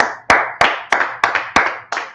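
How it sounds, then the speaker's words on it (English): Seven crisp hand claps, evenly spaced at a steady moderate pace, close and loud with nothing else alongside. "let's clap it up for the Lord"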